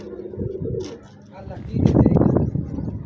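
A pigeon coos nearby in low, rumbling bursts, with a person talking over part of it.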